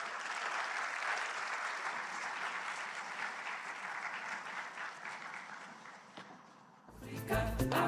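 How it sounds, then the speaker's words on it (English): Sustained audience applause at a diaspora summit, a dense wash of many hands clapping for about seven seconds before ending, followed by a brief burst of loud music. "Ladies and gentlemen, another round of applause for the Deputy Chief of Staff of the Office of the President, Nana Bampo."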